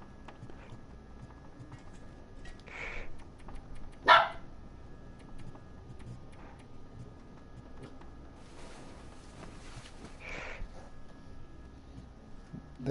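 A wolf in the survival video game The Long Dark gives short barks, one sharp louder bark standing out among a few fainter ones over a low ambient rumble, with no talk.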